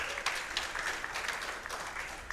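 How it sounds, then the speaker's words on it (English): At a podcast event, a crowd gives the cheerleaders a steady round of applause, a soft, distant wash of clapping with no voices. "Give them a round of applause"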